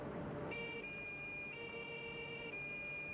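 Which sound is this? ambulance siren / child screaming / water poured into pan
ambulance siren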